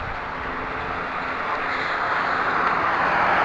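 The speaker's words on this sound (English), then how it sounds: "Watch for cars." A car passing on a street, heard as a steady broadband road rumble and tire hiss that swells gradually as the vehicle approaches, with no talking.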